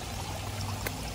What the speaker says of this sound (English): I'm gonna fill up my water, I'm gonna camel up